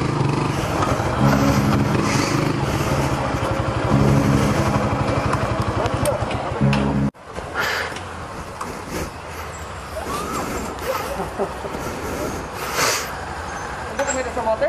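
A motorcycle engine runs loud and close with a steady rumble, then cuts off abruptly midway, leaving street noise and voices talking in the background.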